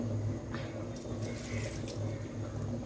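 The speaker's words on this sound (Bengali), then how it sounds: "একটু জল দেব।" Water pours into a cooking pot of drumstick, potato and jackfruit-seed chorchori in a home kitchen, a soft continuous splashing and trickle heard up close over a low background hum.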